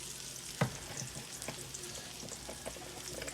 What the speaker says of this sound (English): We're gonna let this just simmer for 2 to 3 minutes, not long, just to saute it